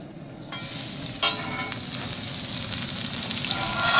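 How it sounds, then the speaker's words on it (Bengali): Chopped garlic drops into hot oil and a loud, close sizzle bursts up, then holds as a dense, steady frying hiss with a brief stir partway through. "এই যে দিয়ে দিলাম রসুন কুচি"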